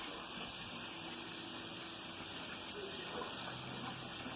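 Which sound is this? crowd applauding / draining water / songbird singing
draining water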